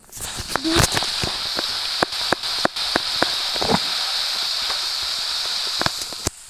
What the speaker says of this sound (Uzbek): Yomg'ir yog'yapti do'stlar.